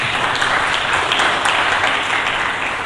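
Steady, dense applause from a church congregation during a Sunday sermon, sustained and fairly loud throughout with no voices on top.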